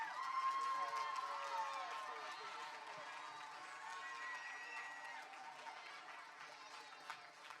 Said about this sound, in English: So can we give Chad a round of applause?